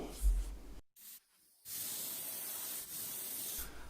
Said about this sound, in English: And I sprayed that all the way around and tried to get it as glassy as possible.